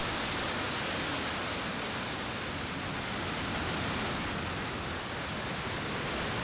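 Water roars through the rock of the Trümmelbach Falls in the Lauterbrunnen Valley, Switzerland, a loud, dense, unbroken rushing roar with no voices over it.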